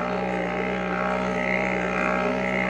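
A tiny diesel engine on a bicycle drones continuously while riding uphill, a loud, steady, buzzing motor note with wind, no voices.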